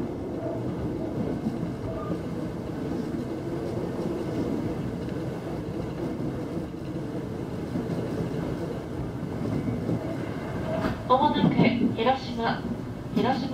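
A local train pulls into a station platform on the Yokogawa to Hiroshima line, a steady low rumble and rolling clatter throughout, with faint squeals and tones near the end.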